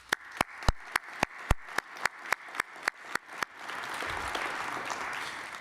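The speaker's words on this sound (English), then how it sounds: "Please join me in a round of applause for our 3 IHOF inductees." Audience applause for three hall of fame inductees at an innovation awards ceremony: a dozen sharp, evenly spaced claps ring out first, then swell into steady, sustained clapping from the crowd.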